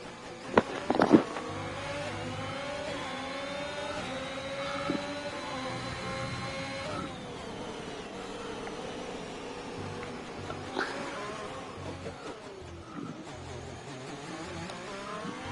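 Racing cars in a video game, engines whining and shifting pitch as they accelerate and pass, with a couple of sharp knocks early on and steady engine drone throughout.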